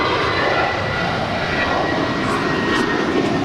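A jet airliner roars on takeoff from runway 25 right at Los Angeles LAX airport, a steady, broad engine rumble heard from a distance without any break.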